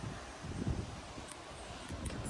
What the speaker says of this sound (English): it's quite windy out today.